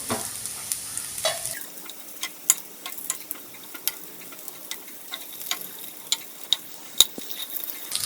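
Oats paniyaram cooking in a paniyaram pan after being flipped: a faint low sizzle with scattered light clicks and ticks of a utensil against the metal, quiet and close, no talking.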